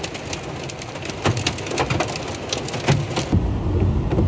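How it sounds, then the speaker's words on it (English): Hailstones pelting down during a tornado warning storm, a dense irregular patter of sharp hits on hard surfaces that thickens toward the end, with bird calls faintly in the background. "Size of hail is increasing a little bit."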